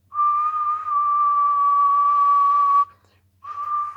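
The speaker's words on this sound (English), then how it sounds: "Oh, yeah, my whistle's terrible." A person whistles one long steady note, pauses briefly, then starts again, close and clear over a faint low hum.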